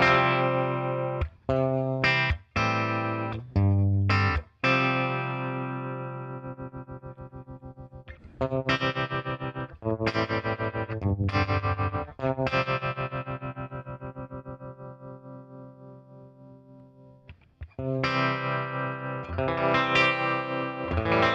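Electric guitar played through a Milkman Sound 5-watt Half Pint amplifier with a modulation effect, sounding as a run of strummed chords and sustained notes that pulse and shimmer, loud and close, with brief pauses between phrases.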